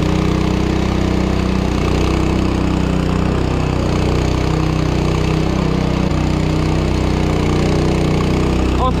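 A petrol engine on a concrete power trowel runs steadily at a loud, constant idle-like drone throughout, with no pauses or speech.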